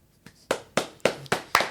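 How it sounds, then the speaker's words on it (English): A studio audience gives a round of applause on a comedy podcast, heard as six sharp, evenly spaced claps, loud and close, with no talking. "Round of applause."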